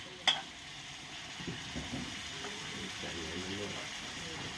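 Food stir-fried in a pan, a low steady hiss of frying with a sharp clank near the start and occasional scraping stirs, heard under faint background voices.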